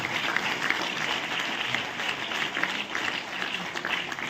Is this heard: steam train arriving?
no